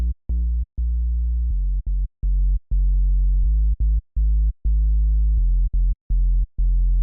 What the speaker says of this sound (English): So let's just add a sine wave.